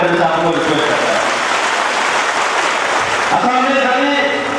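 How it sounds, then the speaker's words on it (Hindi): A crowd claps to welcome Assam Chief Minister Sarbananda Sonowal at a campaign rally in Haflong, a dense, steady applause that fills the middle of the clip, with a voice speaking over the start and end. "तालियां से स्वागत करने से आपको रिक्वेस्ट करता है"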